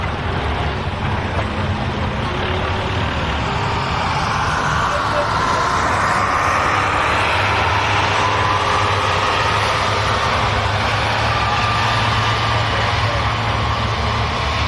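Ford 8000 tractor pulling the sled at a county fair tractor pull, a steady, dense engine drone that holds loud throughout with a slowly shifting tone, with faint voices in the background.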